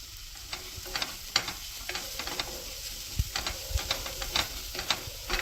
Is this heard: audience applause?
no